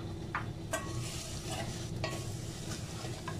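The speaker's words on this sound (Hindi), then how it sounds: "घी हमारा गर्म हो गया, हम सेवइयों को ऐड कर लेते हैं।" Vermicelli fries in hot ghee for sweet milk siwayiyan, a soft continuous sizzle with scattered scraping stir strokes and light clinks of a spoon against the pan, close but quiet.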